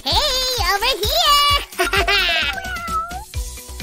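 Kittens meow repeatedly in close, rising and falling cries, with a child-like animated voice mixed among them; the setting is a DIY foam-paper cat playbook.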